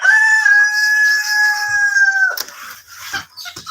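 Japanese bantam chickens imported from India give a long, sustained crow close by, followed by a few short clucks and scratchy rustles at the end.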